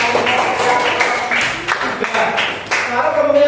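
Classroom applause from students after a group presentation, steady clapping throughout with voices mixed in.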